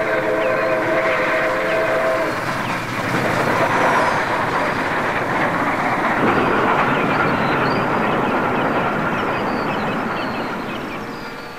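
Passenger locomotive hauling a daily express train on a branch line rushes past at speed, its whistle sounding at first, then a loud roar of wheels and rail noise that fades slightly at the end.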